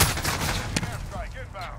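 A single AK-47 shot rings out in a hardcore-mode shooter video game, one sharp crack amid dense, loud game noise.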